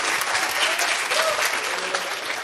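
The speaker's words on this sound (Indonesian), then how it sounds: "sok silakan mau tepuk tangan." An audience at a business conference applauds, a dense, steady wash of many hands clapping at once, full and fairly close, with no speech over it.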